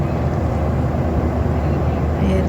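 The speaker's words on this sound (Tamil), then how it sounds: "இப்போ மூவிங்கில் இருக்குது ஃப்ளைட்டு." Steady broadband cabin roar inside a SpiceJet airliner in flight from India to Dubai, a continuous low rumble and whoosh that stays constant and loud throughout.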